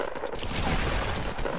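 Dense, continuous gunfire in the Fortnite battle royale game, a sustained fusillade of overlapping shots filling the whole stretch at steady loudness with no talking.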